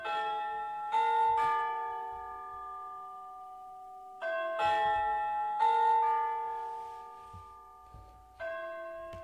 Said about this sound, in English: It's time for church bells and prayer.